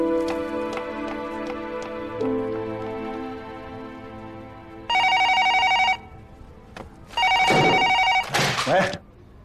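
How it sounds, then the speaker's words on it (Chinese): A telephone rings in two loud, steady bursts of trilling tone, each lasting about a second or more, over soft background music in a drama scene set around a company office. "裴剑锋，怎么是你接电话？"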